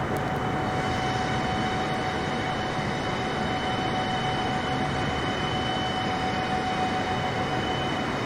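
Engines of a Boeing 747-8 drone steadily in flight in Microsoft Flight Simulator 2024 on a PS5, a loud, unbroken broadband roar with a fixed tonal whine running through it and no speech.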